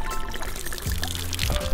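Water pours from a backup supply outdoors during a turkey hunting trip, a steady splashing stream up close with a rough, noisy texture and a few low thumps and rustles mixed in.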